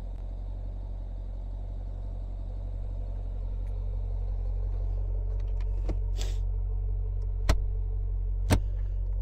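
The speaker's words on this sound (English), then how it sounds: "you can open up the rear hatch here with this" A 2022 Dodge Durango SRT 392 AWD has its rear hatch released, with two sharp latch clicks a second apart over a steady low rumble.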